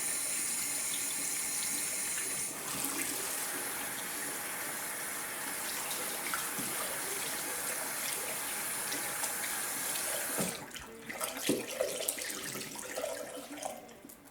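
A tap runs moderately warm water onto a cloth in a sink, a steady loud rushing stream that shifts and softens near the end as the cloth is wetted.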